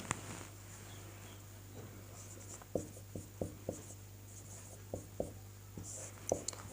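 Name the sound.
writing on a board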